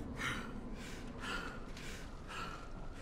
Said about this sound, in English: Yeah, my guy is like panting now.